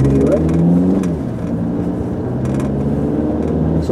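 A diesel car with a Continental 48V mild hybrid system restarting and pulling away, a loud close engine drone that dips and then rises steadily in pitch as it accelerates, heard from the cabin.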